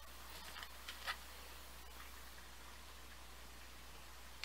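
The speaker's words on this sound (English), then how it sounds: "It is raining right now as I'm recording this." Steady, soft rain falls outside, a faint continuous hiss with a few light ticks of drops, and no voices.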